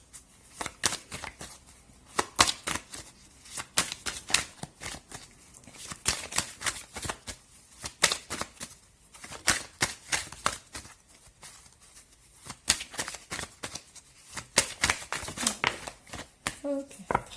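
Tarot cards are shuffled over and over, a fast stream of crisp riffling flutters in repeated bursts, while someone speaks French across them.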